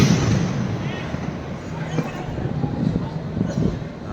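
Rapid gunfire crackles from a helicopter in the PUBG Mobile battle-royale game, with sharp bursts over a constant rotor-like drone and excited voices talking in the background.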